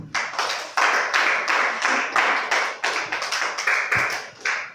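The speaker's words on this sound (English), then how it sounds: "Clap for her." Church congregation applauding together, a dense run of sustained clapping bursts that surge and fade in repeated waves, loud and close with no talk over it.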